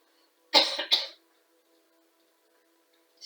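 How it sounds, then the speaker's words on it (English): A couple of close, sharp coughs in quick succession from a woman with exercise-induced asthma, lying down during a quiet chair yoga class, followed by silence. "Excuse me, coughing."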